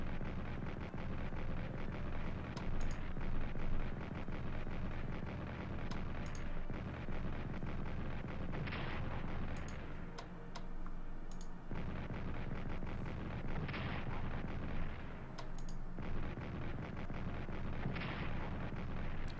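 Artillery fire in the Strategic Command: World War I strategy game: repeated distant booms at irregular intervals over a constant low rumble, fairly faint throughout with no talking.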